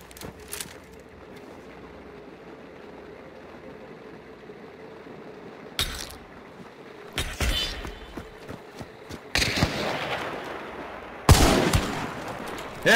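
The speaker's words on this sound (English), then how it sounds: "I'll try to get a shot out." Gunfire in the video game Hunt: Showdown, with several loud shots and bursts over the second half after a quieter stretch, one sharp blast near the start.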